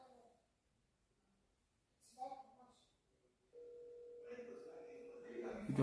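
A phone call ringing out with nobody picking up: a faint steady ringback tone comes in partway through, with quiet talk before it and around it.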